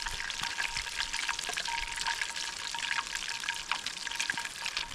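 Alaska rockfish frying in oil over a rainy campfire, a steady bright sizzle and crackle with scattered pops, close and continuous throughout.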